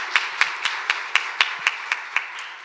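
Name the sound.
audience applause for a lecturer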